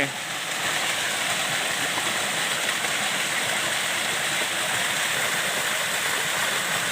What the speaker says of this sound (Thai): เห็นเป็นน้ำตกครับ